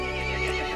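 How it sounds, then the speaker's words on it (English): A horse in the Resident Evil Village video game lets out a loud, close whinny, a single sustained neigh with strong harmonic tone. "The horse grew angry and summoned the other monsters."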